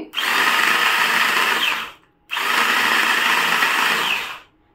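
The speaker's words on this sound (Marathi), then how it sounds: "तुम्ही इथे बघू शकता आपल्या मिरच्या आणि लसूण क्रश होता आहे" A small electric mini chopper whirs loudly as it crushes green chillies and garlic, running in two steady bursts of about two seconds each with a short pause between them.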